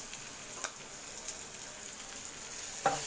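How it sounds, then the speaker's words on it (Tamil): Garlic, ginger and pepper sauté in a pan for pepper fish fry, a faint, even sizzle with a couple of brief stirring knocks. "பூண்டையும் சேர்த்து நல்லா வதக்கிக்கோங்க"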